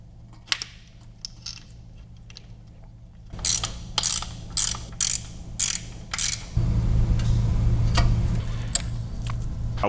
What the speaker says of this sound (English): I'm gonna go hit the clutch pedal a couple times